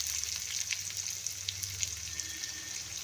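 Onion, ginger, garlic and spices frying in oil for an anchovy and jackfruit seed curry, a continuous bright crackling sizzle with light popping, close and steady, no talk.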